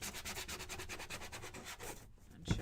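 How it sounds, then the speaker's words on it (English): Sanding the detailed layered top of a flower craft kit piece before heavy distressing: a steady, close rhythmic scratchy rasp of repeated strokes, ending with a brief pause and a small knock. "And I'm going to sand that"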